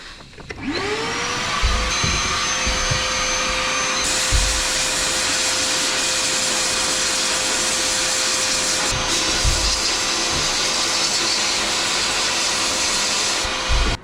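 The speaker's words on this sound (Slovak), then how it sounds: "Hapneme si vysávač." A vacuum cleaner switches on and runs loudly and steadily in a car workshop while parts of a BMW M4 rear axle are cleaned, with a continuous whine and hiss and occasional bumps of the nozzle.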